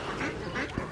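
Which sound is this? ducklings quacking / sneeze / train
ducklings quacking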